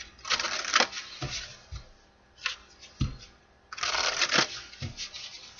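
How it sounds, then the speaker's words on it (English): Tarot cards being shuffled in several quick riffling bursts with short pauses between, close and crisp, ending with soft taps of the deck. "One more shuffle, my guys. One more shuffle."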